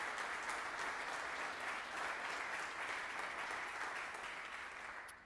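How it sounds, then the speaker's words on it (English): Audience at a legal services innovation event giving a panel a round of applause, a thick continuous roar of clapping that holds steady for several seconds before fading slightly. "Let's see if we can match the round of applause to the first panel."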